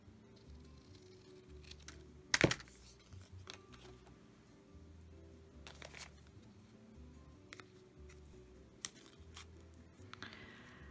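Scissors snip through craft ribbon, one sharp close cut followed by a few quieter snips and faint handling rustles, with no talking.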